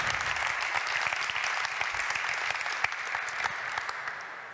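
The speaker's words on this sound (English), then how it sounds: "Applause." Conference audience applauds after a technical presentation, a steady even wash of many hands clapping at moderate distance, fading slightly toward the end.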